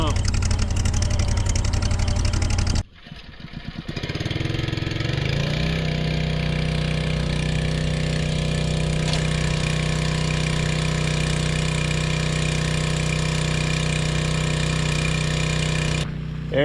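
A small engine driving a water pump on a DIY fire fighting trailer runs steadily and loudly at close range, starting after a short gap and holding a constant drone to the end.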